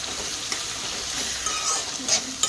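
Onions frying in a pan for gongura chicken, a continuous close sizzle with soft stirring scrapes and a couple of brief utensil clinks.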